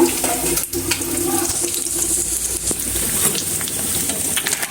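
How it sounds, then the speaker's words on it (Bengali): Tap water runs steadily into a pot being filled to boil potatoes, a loud, continuous splashing gush close by with no talking. "এদিকে আমি আলুগুলো সিদ্ধ বসাবো মাটির নিচের আলু পানি দিয়ে নেই"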